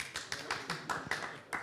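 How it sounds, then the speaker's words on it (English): A few people clap in uneven, sparse beats, fairly close and fairly quiet, in a horse racing preview studio. "Don't clap yet, it hasn't won yet."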